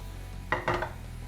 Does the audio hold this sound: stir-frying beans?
yes